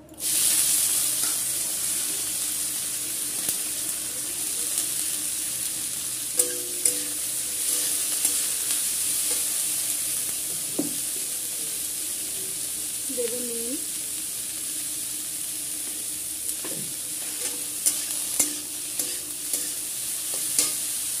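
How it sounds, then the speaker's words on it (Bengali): Bitter gourd frying in hot oil with turmeric for a bitter gourd and pumpkin curry, a continuous crackling sizzle with scattered stirring clinks and scrapes nearby over about twenty seconds. "দিয়ে দেবো তেল আর একটু এখন আমি উচ্ছেটা ভেজে নেবো"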